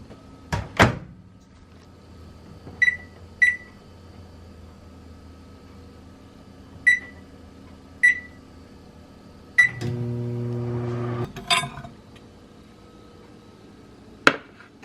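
A microwave oven heating meatballs moistened with broth: repeated beeps from button presses, the door clunking open and shut, and a steady hum running for a couple of seconds, with no talk.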